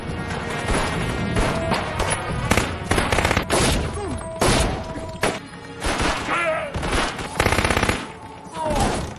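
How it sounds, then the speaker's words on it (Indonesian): Dense automatic gunfire and bursts of shots in a Jean-Claude Van Damme action film scene, The Shepherd (2008), with loud rapid volleys, impacts and crashes layered with music and effects throughout. "muncullah tim bantuan yang langsung menghujani Cap dengan peluru panas"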